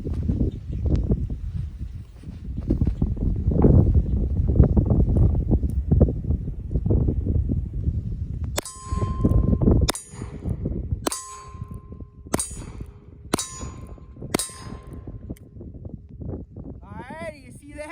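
A Heritage Rough Rider revolver fires six sharp shots outdoors in quick succession, each crack followed by a short metallic ring, after a stretch of wind noise at the start.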